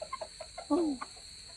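Chickens heading into their coop on a cold evening, soft clucks and short calls in a loose rhythm with one louder drawn-out squawk, fairly close, over a faint steady hiss.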